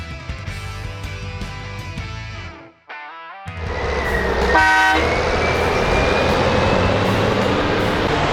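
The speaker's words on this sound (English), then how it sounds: "Something that big should have a nice horn on it" A large vehicle on a rural property gives a loud, sustained horn toot, a brief gap, then a second long honk that holds steady, ringing close and strong.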